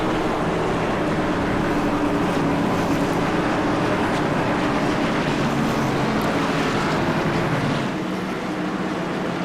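Race cars in a Cruisin Classics Next Gen Series event at Nashville roaring steadily through the corners, a dense continuous engine wash heard from trackside at moderate distance, with no talk.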